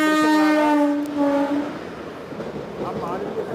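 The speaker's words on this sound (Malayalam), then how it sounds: "ഇപ്പോൾ ഈ റെയിൽവേ ട്രാക്കിലൂടെ ട്രെയിൻ കടന്നു പോകുന്ന" A train on a railway track in Kollam gives a loud, sustained horn blast lasting about a second and a half, then fades into a rougher rumble with voices talking.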